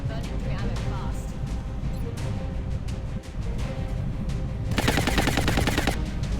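Gunfire in the turn-based strategy game XCOM Long War: a rapid burst of automatic shots near the end, after a stretch of quieter game sounds, with someone talking over it.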